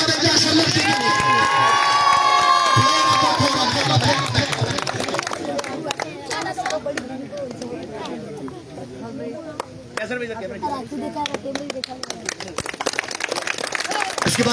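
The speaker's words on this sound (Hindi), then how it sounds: "तालियां बजा दें कैसे लगते हैं।" Crowd cheering and shouting with scattered claps at the prize ceremony of an Eid Milan cricket tournament in Nagri Totial, loud and busy from start to end, with children's shouts and a voice talking over the noise.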